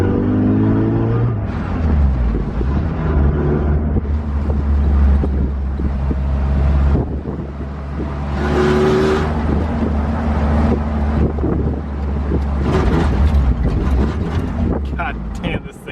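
A Jurassic Park Jeep's 4-cylinder engine runs raspy and loud up close, a deep steady rumble with a few revs rising and falling, while someone talks over it.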